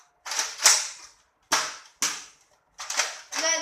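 A Nerf N-Strike Modulus Tri-Strike blaster fires foam darts in five sharp, close snaps, each a quick crack with a short rattling tail, spaced irregularly with silent gaps between.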